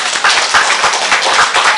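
Applause from a festival audience honoring an executive committee member, dense rapid clapping from many hands, loud and sustained throughout.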